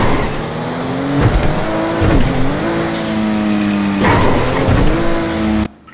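A car engine in GTA V revs hard and loud through a continuous run, its pitch climbing and dipping with gear shifts and tyre squeal, close up with no talking, cutting off sharply at the end.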